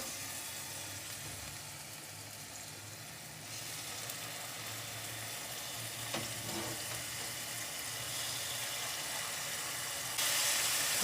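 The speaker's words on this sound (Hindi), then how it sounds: "इस तरह से सारी चिकन आप डाल के जितनी पैन में आती है उसको आप फ्राई कर लें" Chicken pieces frying in hot oil in a pan, a steady close sizzle that holds throughout and grows slightly louder toward the end.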